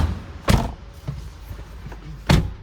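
Two solid car door thumps on a Tesla Model S about two seconds apart, close and loud, with a quieter knock and faint cabin rustle between them.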